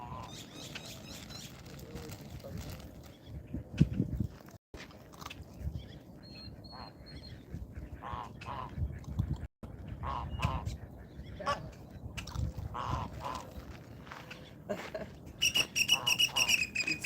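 A flock of ducks and geese honks and quacks in scattered bursts across open ground, some calls near and others farther off, with quiet stretches between and a soft murmur of people in the background.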